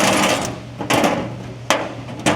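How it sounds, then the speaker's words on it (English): A screw gun whirs in short bursts while unbolting a cabinet, close and loud, three quick runs separated by brief pauses. "We return to the empty cabinet with the screw gun here."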